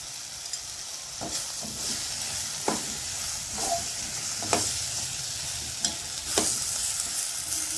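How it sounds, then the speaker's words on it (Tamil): Drumstick vegetables sizzle steadily in a hot pan, with occasional scraping stirs and clacks of a utensil breaking through the constant frying hiss. "முருங்கை கொஞ்சம் லைட்டாக வதங்கிடுச்சு."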